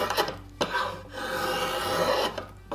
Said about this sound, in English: tilt the blade, skew it like this, you see I get those beautiful curly shavings off there?